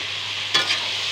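Lightly fried vegetables sizzle softly and steadily in a pan, with one brief stir or scrape near the middle, close by and with no voices.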